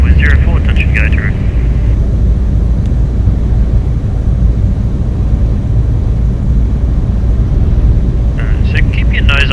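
The engine of a Sling 2 light aircraft drones loudly and steadily during circuit training at Tooradin, a constant cockpit hum with brief radio-like tones at the start and end.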